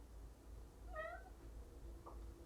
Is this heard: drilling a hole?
no